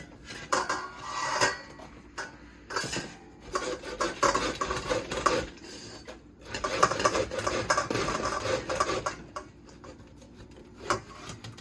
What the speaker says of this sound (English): I'm gonna use the cheddar part of this grater to grate the cauliflower